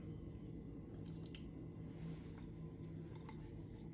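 Hands squish and knead salmon in a bowl with water and vegetable oil, producing wet, soft squelching and slippery dripping sounds under a steady quiet background hum, fairly close, no speech.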